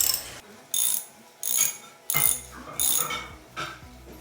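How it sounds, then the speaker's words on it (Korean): Bicycle cassette lockring being worked with a tool: six short bursts of loud ratcheting clicks at a steady pace, separated by brief pauses. "이렇게 힘을 딱 주시면 랑링이 돌아갑니다."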